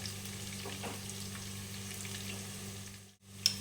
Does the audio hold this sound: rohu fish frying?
yes